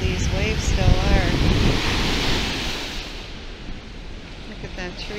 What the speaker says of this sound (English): It's amazing how forceful these waves still are.